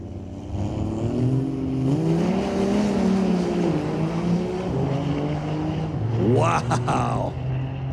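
A diesel race truck on a drag strip at Mission Raceway Park revs and roars, launching on all four wheels with a rising engine drone and a sharp burst of acceleration near the end, with a voice talking over it.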